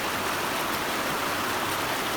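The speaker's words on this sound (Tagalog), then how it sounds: "Sarap talaga pakinggan ng agos na tubig sa ilog." River water flows steadily in a constant broadband rush, close and even, with no voices over it.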